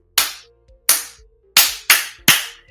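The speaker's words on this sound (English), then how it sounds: "You might do a clap the rhythm where you go" A single person claps a rhythm for young children to echo: five sharp, close hand claps, two spaced apart then three in quicker succession, with silence between.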